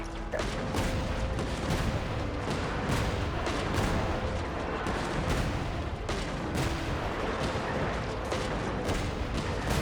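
Dense, continuous mechanical rumble with repeated sharp firing bursts from artillery in a video game, loud and sustained throughout, with a faint steady tone running underneath.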